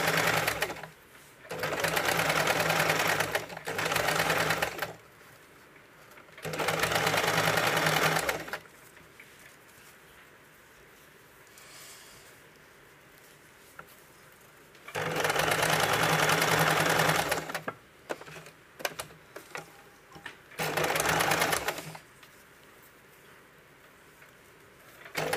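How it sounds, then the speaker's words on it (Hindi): A sewing machine stitches a flower sleeve design for a blouse in several steady whirring bursts of a few seconds each, separated by quiet pauses with faint handling noises. "पर एक सिलाई लगा दें ताकि ये अच्छे से दब जाए।"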